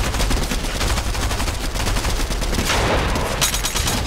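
Dense, continuous automatic gunfire from a Fortnite match, rapid bursts running loud and close throughout with a sharper crack near the end.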